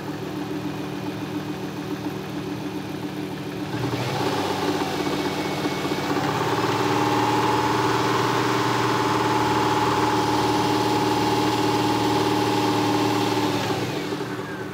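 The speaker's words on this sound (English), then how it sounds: "You may need to raise the RPM of the engine, get the compressor spinning a little faster" A car engine runs steadily during an automotive A/C system recharge, a continuous mid-pitched hum that rises in level partway through as the RPM is raised to spin the compressor faster, with no talking.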